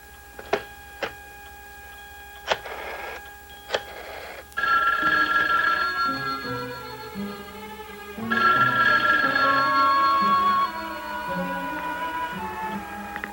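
A telephone bell rings in several sharp, separated bursts, then longer sustained rings come through with a faint hum and other sound beneath, the ringing going on for a long while unanswered.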